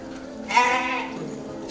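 Nondescript-breed goats bleat once in a drawn-out, wavering call at moderate distance, with quiet farmyard ambience before and after.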